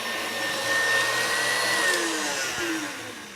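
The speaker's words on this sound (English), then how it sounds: "this mixer saves a lot of time" A stand mixer whirs steadily while ham casserole and peaches and cream cheesecake ingredients are mixed, its motor hum holding even and loud, with a clatter near the end and no talking.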